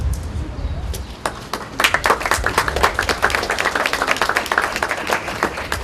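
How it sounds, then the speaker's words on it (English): Audience clapping at a flag raising festivity, rising from scattered claps into brisk, sharp, fairly close applause that continues steadily to the end. "Oh, thank you for clapping."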